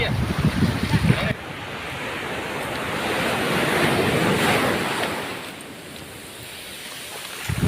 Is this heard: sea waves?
yes